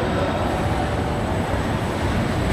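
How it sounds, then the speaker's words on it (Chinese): An amusement park castle train pulls into its station, a loud, continuous low rumble and rolling noise with a faint high whine, steady throughout and with no talk. "火车进站。"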